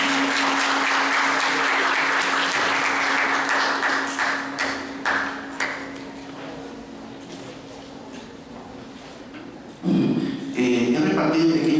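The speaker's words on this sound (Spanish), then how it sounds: "fuertes aplausos para el profesor Tito Agüero" An audience at a political science workshop at a Peruvian university applauds a lecturer. Dense clapping is joined by a steady tone, then thins and fades into scattered claps and taps, followed by louder clatter and movement near the end.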